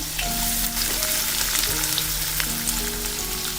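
Chopped onion sizzles steadily in hot oil in a pan, a continuous close frying hiss with faint clicks and a low hum underneath, no voices.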